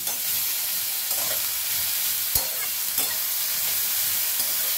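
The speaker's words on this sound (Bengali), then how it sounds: "নুনটা দিয়ে ভালো করে নাড়াচাড়া করে নিলাম।" Salted banana stem frying in a pan, stirred steadily: a continuous bright sizzle with a few soft scrapes and clacks of the spatula, close and alone with no talk.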